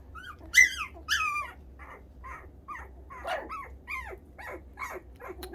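A small puppy whimpers and yips in a string of high, thin cries and short barks, close and fairly quiet, with irregular pauses between calls.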